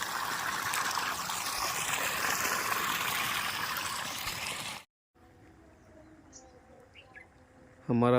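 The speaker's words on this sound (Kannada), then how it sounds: "ನೀರು ಈ ಥರ ಬೀಳ್ತಾ ಇದೆ ಈ ಬಾವಿ ನೀರು" Well water pours and splashes steadily for about five seconds, a loud continuous rush. It cuts out abruptly and leaves quieter outdoor ambience with birds chirping. A short burst of noise closes the segment.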